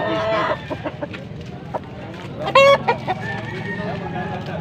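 Roosters at a Saturday chicken market in Pampanga, clucking and a sharp crow close by, with people talking in the background throughout.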